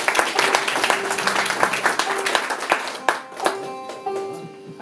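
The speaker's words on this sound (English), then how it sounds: "a massive one more round of applause for all the amazing floor singers earlier" Audience clapping at a folk club gig, a dense, close rattle of hands that carries on for several seconds and then thins out while people start talking.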